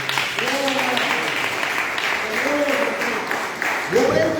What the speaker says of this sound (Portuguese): Então dê uma salva de palmas bem forte para ele